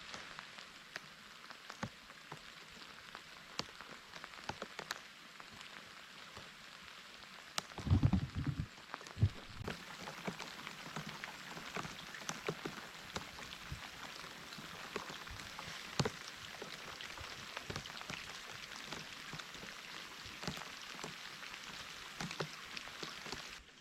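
Light rain pattering steadily at the Shatsk Lakes, with scattered distinct drips over a soft continuous hiss, calm and windless.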